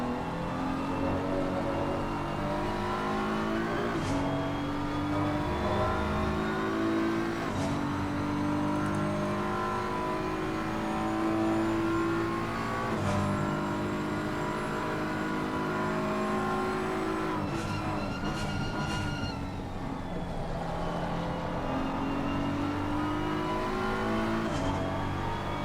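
A BMW race car laps Monza in a racing game, its engine droning loud and steady with rising revs through the gears and dips on braking. A Ferrari runs nearby, and tires squeal briefly in the corners.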